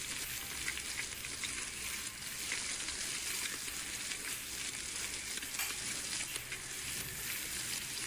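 Tandoori momo sizzler with rice sizzling loudly and steadily on a hot plate, a dense continuous hiss of frying that stays even throughout with no voices.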